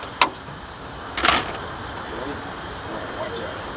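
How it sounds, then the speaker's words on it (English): The cab door of a Kubota KX-080 excavator is shut, giving a sharp click followed about a second later by a louder latching thud, with quiet background between. "just go and shut the door"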